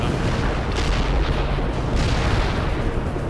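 Artillery rockets striking in World in Conflict, a continuous heavy rumble of distant booms and blasts rolling together with no clear gaps.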